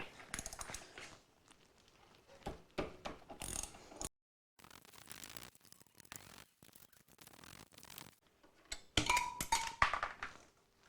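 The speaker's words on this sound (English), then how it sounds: "just looks like 4 bolts, and it's a metric 12 socket on there" A ratchet with a metric 12 socket undoes bolts on a Royal Enfield Interceptor 650 motorcycle, producing bursts of close clicking ratchet strokes separated by pauses, ending with metallic clinks.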